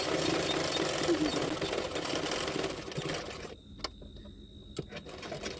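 A sewing machine runs in a fast steady whir as it stitches the lining fabric of a blouse, then stops, leaving a few sharp clicks and taps in a quieter room.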